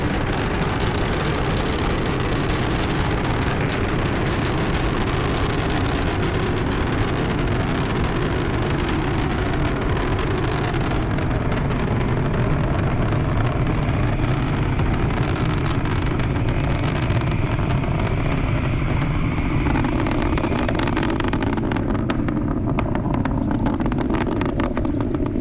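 Falcon 9 rocket engines roar during ascent as the vehicle goes transonic through the sound barrier. The rumble is loud, continuous and broadband, heavy in the low end and holding steady, with the top end fading slightly late in the clip.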